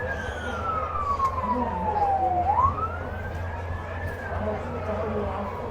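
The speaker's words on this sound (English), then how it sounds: "No, don't worry. The sirens aren't coming here." A single siren wails through a long falling then rising sweep, moderately loud over a steady low rumble of background noise at a Friday night high school football game.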